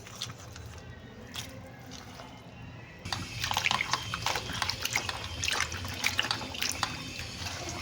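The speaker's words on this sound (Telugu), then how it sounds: "ఈ వాటర్లో అయితే వేసి క్లీన్ చేసుకుంటున్నాను నేను." Mutton head meat being kneaded and washed by hand in a vessel of water, with soft sloshing and splashing that grows busier and louder partway through, close and continuous with no talk.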